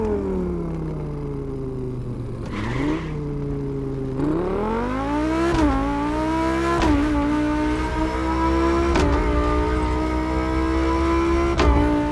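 A human voice imitating a 4-cylinder 2-liter turbo engine, mouth-made revving that climbs in pitch through repeated gear-shift-like rises and drops, loud and close, with no words spoken.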